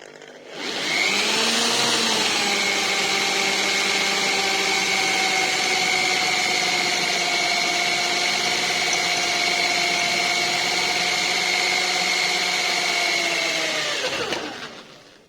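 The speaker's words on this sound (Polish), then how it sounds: "Pierwsze wiertło Milwaukee." A handheld power drill fitted with a Milwaukee drill bit bores into material, whining up to a steady high-pitched spin for about thirteen seconds before spinning down and stopping, loud and close.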